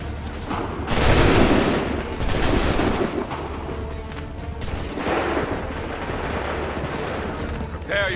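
Musket volleys crack out in Assassin's Creed III, a heavy burst of massed gunfire near the start followed by a second rolling volley midway, with booming rumble and battlefield noise filling the gaps.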